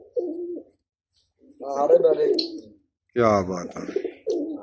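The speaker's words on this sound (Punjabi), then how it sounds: "ਇਹ ਪਿਛਲੇ ਸਾਲ ਉੜਦਾ ਰਿਹਾ ਕਬੂਤਰ" Pigeons cooing up close in a loft of flying pigeons, with a few separate throaty coos and someone speaking briefly between them.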